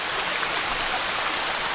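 Water from a small rocky stream rushes and burbles steadily nearby, a continuous hissing flow with no voices over it.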